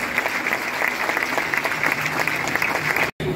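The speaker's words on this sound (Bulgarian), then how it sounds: "Аплодисменти за Трифон и за всички велики футболисти" Steady, dense applause from a crowd at a football club's centenary celebration fills the room, with clapping continuing evenly throughout before a brief cut near the end.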